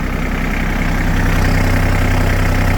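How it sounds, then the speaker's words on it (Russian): An ISEKI Sial 223 Japanese 22-horsepower mini tractor engine idles smoothly up close, a loud, steady low-pitched rumble with an even, regular firing pulse throughout. "Слышим прекрасную работу двигателя, ровную."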